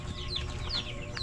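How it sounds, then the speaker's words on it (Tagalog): A broiler chicken clucks in short, repeated bursts, close by and moderately loud, over a low rumbling background. "Manok ni Camel."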